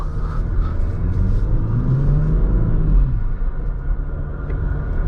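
Jeep Grand Cherokee High Altitude WK2 EcoDiesel in off-road mode, a close, loud engine rumble with a rising then falling turbo spool whine as it pulls, cabin-heard and steady throughout.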